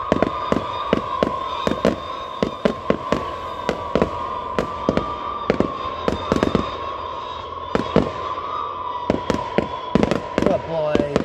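Fourth of July fireworks in Washington, Maine, with many loud, sharp bangs going off in an irregular rapid barrage over a steady background hiss and crackle, continuing throughout.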